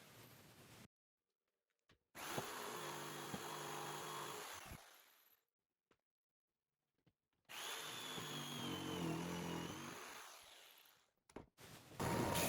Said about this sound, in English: I used my jigsaw to cut off the bulk of the material